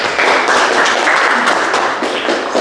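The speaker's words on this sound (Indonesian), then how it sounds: "Oke, silakan berikan aplaus." A classroom audience applauds after a group presentation, a steady dense patter of clapping hands that fills the room from start to finish with no talk over it.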